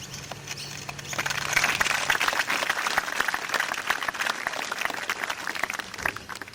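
Audience applause at a 1989 ANZAC Day remembrance ceremony: after a quiet opening second, broad clapping swells and holds steady throughout, with a few faint chirps mixed in.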